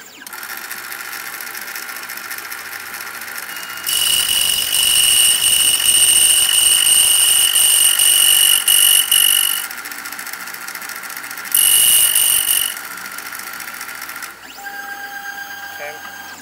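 A key milling machine cuts a key in two bursts, a high, shrill whine for about six seconds and then a shorter one, with a quieter mechanical hum between and after them.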